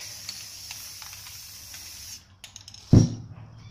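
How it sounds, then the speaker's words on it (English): A spray can hisses steadily for about two seconds, then stops, followed by a few faint clicks and a dull thump. "now let's just spray all over the place now"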